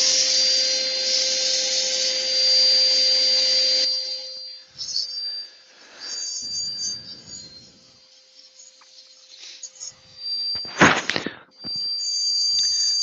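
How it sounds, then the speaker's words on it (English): A dust extractor in a woodturning workshop gives a loud, steady whooshing roar for a few seconds, then drops to a quieter hum broken by brief bursts of workshop noise. "Dust extractor on again."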